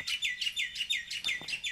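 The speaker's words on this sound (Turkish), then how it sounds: "Kuşlar." Birds in the Potentia video game give quick repeated chirps, about eight bright tweets in a steady rhythm, clear and close with nothing else behind them.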